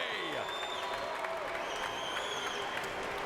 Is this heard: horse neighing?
no